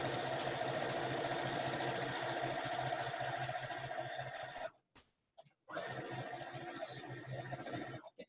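A sewing machine stitches a seam on a Viking hood, running in a fast, steady mechanical whir, stopping briefly twice near the end before starting up again close by.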